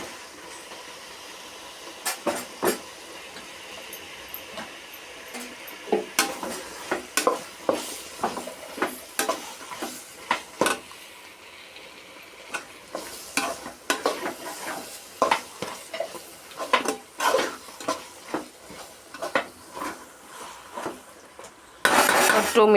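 Chopped mushrooms for mushroom biryani sizzle in a hot pan while a utensil scrapes and clinks against the metal in irregular bursts, close and fairly loud, with no one talking.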